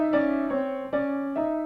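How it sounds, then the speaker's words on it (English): Piano sounding a dissonant flatted ninth interval, struck four times in a row, each chord ringing and sustaining clearly on its own. "the most dissonant interval is a flatted ninth"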